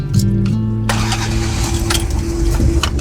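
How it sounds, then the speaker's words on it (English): Car engines start up one after another inside a Channel Tunnel shuttle train carriage, a loud crank and catch followed by rumbling idling and revving that echo in the enclosed space, with brief clatters over the steady drone. "Oh wow, people are turning on the engines."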